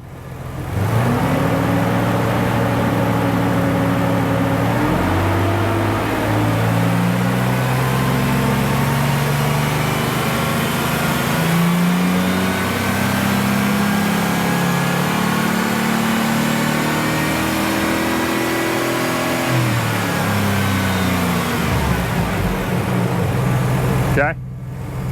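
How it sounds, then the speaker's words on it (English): A car engine in park climbs steadily in revs toward its fuel cut, holding a loud, strained drone with stepping pitch before releasing and shutting off; voices talk over it. "You're going to gradually rev to fuel cut and then release and then shut it off."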